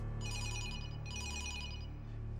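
A telephone rings indoors in two distinct bursts of bright trilling bells separated by a short gap, fairly close and with no one speaking over it.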